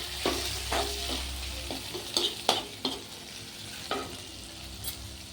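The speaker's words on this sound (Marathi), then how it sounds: "कोथिंबीर टाकून थोडं परतायचे आहे" Golden fried onion with fresh coriander sizzles steadily in a pan while a spoon stirs it, making repeated close scraping clacks over the frying hiss.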